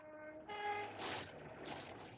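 A distant train horn sounds a faint, steady chord, followed by rumbling rail noise and hissing as the train passes.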